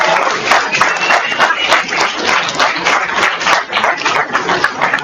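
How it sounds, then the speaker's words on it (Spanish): An audience at a Twelve Steps recovery conference in Zamora breaks into applause: a dense, steady patter of many hands clapping nearby, fairly loud and continuous, with no speech over it. "denle un aplauso, por favor"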